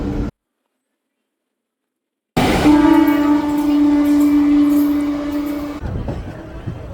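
After a brief silence, a loud train horn sounds a long steady tone over the rumble of a passenger train leaving Chennai Central, then fades into rolling carriage noise.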